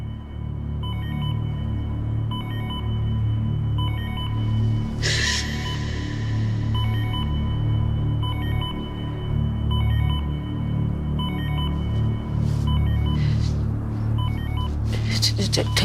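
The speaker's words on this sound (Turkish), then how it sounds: "Telefon çalıyor." A telephone rings in a repeating electronic pattern of short trilling bursts over a constant low hum, with voices and a few clattering sounds.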